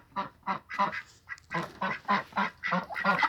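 Ducks quacking close by, a regular series of about ten loud nasal honking quacks in quick rhythm, with no talk over them.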